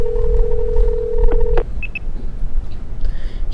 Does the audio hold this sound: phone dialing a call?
yes